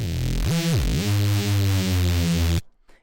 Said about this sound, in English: the next effect is a Saturator, and this is actually just giving it a lot of distortion.